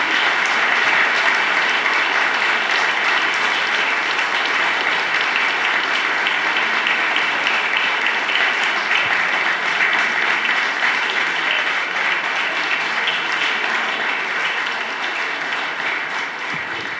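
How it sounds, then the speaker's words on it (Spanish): A book-launch audience in Luján applauds the three authors of a local history book with loud, continuous clapping that holds steady for a long stretch and eases slightly near the end. "les damos un aplauso enorme a los 3"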